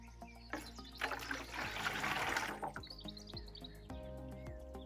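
Nematode solution pours from a jug into a garden watering can, a splashing trickle of liquid that swells for a couple of seconds and then tapers off, with birds chirping outdoors in the background.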